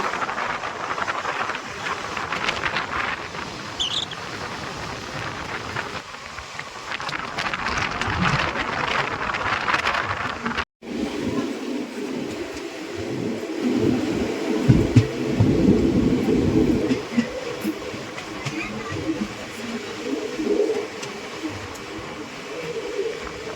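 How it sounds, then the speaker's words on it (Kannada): A sleeper-class passenger train running from Bangalore toward Pondicherry: a steady, loud broadband rumble and rattle of the carriage in motion, with a momentary dropout midway, then continued clattering, and no talking. "ಈಗ ಟ್ರೈನಲ್ಲಿ ಜರ್ನಿ ಸ್ಟಾರ್ಟ್ ಆಗಿದೆ"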